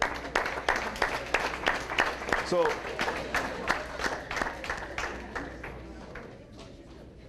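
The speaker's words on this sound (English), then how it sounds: "Let's give them a round of applause" An audience at a school talk event claps in a lively burst of applause that fades out over several seconds, with a voice briefly heard over it.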